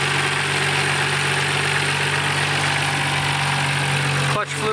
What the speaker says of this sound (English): it seems like the idle problem might be coming from the AC compressor being on